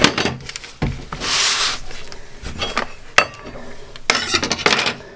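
A knife cuts pastry about a centimetre wider than the rim of a pie dish for a savoury beef mince and cheese pie, heard as close scraping and rubbing strokes with a few sharp taps in between.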